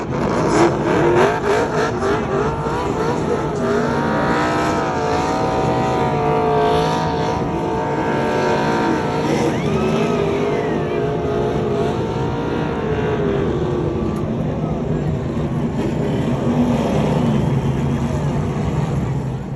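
NASCAR trucks racing at Daytona International Speedway on truck night, a loud continuous roar of engines with rising and falling pitch as trucks sweep past, with a voice faintly present underneath.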